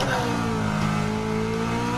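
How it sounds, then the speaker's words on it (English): A supercharged Chevrolet Camaro 1LE on racing soft tires revs hard in a racing video game, its engine note a loud, steady, continuous drone held close and alone throughout. "Let's see what we can do in this supercharged monster."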